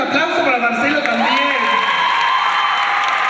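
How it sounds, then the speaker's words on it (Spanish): A rowdy crowd at a women's nightlife event applauds and cheers for a man named Marcelo; loud, steady crowd noise with whoops and raised voices over the clapping. "el aplauso para Marcelo también"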